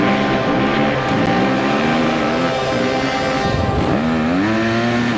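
KTM off-road motorcycles racing flat out in the Kameel 200 desert race, a loud continuous engine drone with rising and falling pitch as they pass near, no talk.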